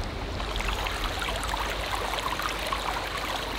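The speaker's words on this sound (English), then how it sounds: "Nice little babbling brook." A small babbling brook in a Delaware creek, a steady close rush and trickle of flowing water filling the whole stretch without pause, no voices.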